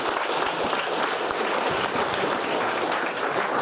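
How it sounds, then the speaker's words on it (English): Audience applause at the Hack Manchester Junior 2019 hackathon, a dense steady wash of clapping from a crowd that holds even and loud throughout. "Should we give a round of applause?"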